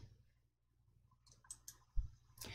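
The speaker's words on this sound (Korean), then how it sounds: "행 높이 다시 클릭해 주세요." Several sharp computer mouse clicks during spreadsheet work, a few light taps spaced across the moment and a louder pair near the end, close and alone with no talking.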